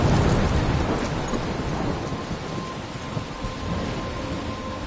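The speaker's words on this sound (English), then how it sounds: "I'm trapped in a storm?" Video game thunderstorm, a loud rolling rumble of thunder opening over steady heavy rain, with rainfall hissing on through the rest and occasional drop patter, no voices.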